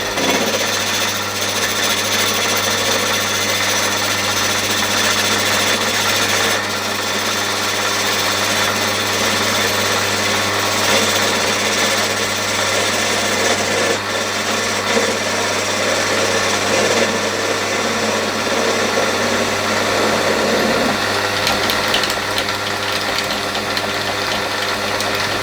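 A Sherline 5000 mill machines a cast metal pulley with a continuous, buzzing, chattering cutting noise. The sound is loud and close and holds steady for the whole stretch, with no talking.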